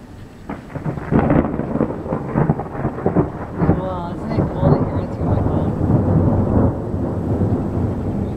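Thunderstorm with loud rolling, rumbling thunder building and sustained over several seconds, rain noise underneath and a brief human exclamation partway through.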